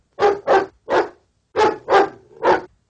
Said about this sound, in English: The quarterback barks his signals.